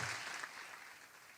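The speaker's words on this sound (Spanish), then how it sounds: "pido un fuerte aplauso" Steady applause from an audience at the opening ceremony of a national political science congress in a university hall, a dense, even wash of clapping that fades slightly over the short stretch.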